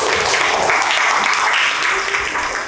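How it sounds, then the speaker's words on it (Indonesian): A classroom group applauds for Nesa during a teachers' coaching session, loud, close, dense clapping sustained evenly throughout the short burst. "tepuk tangan dong buat Nesa"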